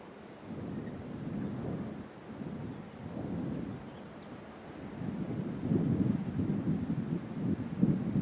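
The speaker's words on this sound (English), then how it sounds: "with the sound of thunder in the background" Low, continuous thunder rumbles on and off through a storm with some wind, heard from a distance during a lion-watching trip on the African savanna.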